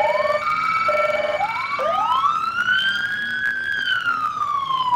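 Police car sirens wail loudly and steadily at a Fourth of July parade, the pitch sweeping up and down, with a second siren tone joining partway through.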